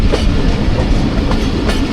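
Thall Express, hauled by HBU20 locomotive 8045, runs through Ochhri railway station without stopping, a loud, steady rumble of wheels and carriages with rhythmic clickety-clack close by.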